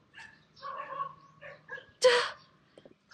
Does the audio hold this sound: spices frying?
no